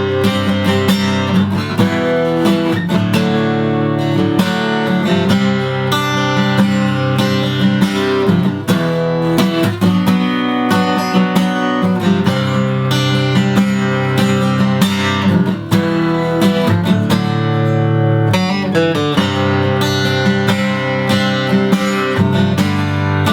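Acoustic guitar strums the chord progression of a song, a steady, loud rhythmic pattern of chords moving through changes, played alone without any voice.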